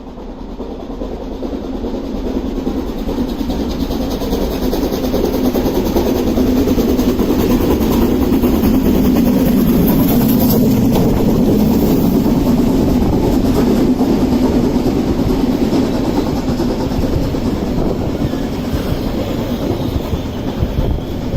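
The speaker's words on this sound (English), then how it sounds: "So I'm all set up and ready for the train to come." A train rumbles past on a cold winter day for a long stretch, a steady loud roar of wheels and rail clatter with a faint rhythmic clack throughout.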